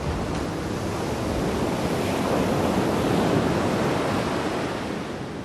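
Ocean waves surge and wash against the rocky shore at Tanah Lot sea temple in Bali, a continuous broad roar of surf with wind buffeting the microphone and no talk.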